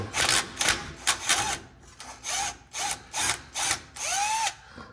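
A power drill whirs in short, repeated bursts while loosening a bolt on a G-body car's rear end, about seven pulses with brief pauses between, close by and fairly loud, each ending in a falling whine.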